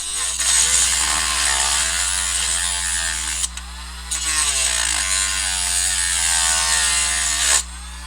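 A ratchet backs out stubborn screws on a Tecumseh small engine, producing a continuous loud, close, buzzing rattle of fast clicks that breaks off briefly twice, over a steady low electrical hum.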